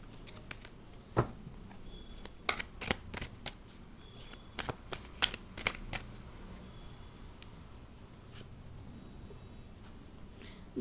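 Osho Zen Tarot cards being shuffled by hand: bursts of crisp riffling and slapping clicks, clustered in the middle of the passage with quieter gaps, close and fairly soft with no talk.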